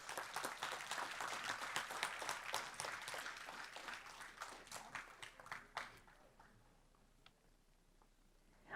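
Audience at a school board meeting gives a round of applause for a student honoree, steady clapping that thins out and fades to a few scattered claps.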